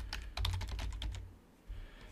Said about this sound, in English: Let's go ahead and type in my super secret password.